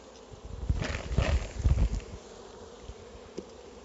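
Honeybee colony buzzing at an opened hive beside the brood nest, a close droning hum with several louder swells as bees fly past, then settling to a softer steady buzz.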